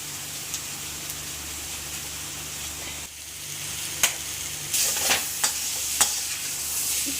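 Garlic and grated ginger fry in a pan with a continuous close sizzle, joined in the second half by several sharp clinks and scrapes of stirring.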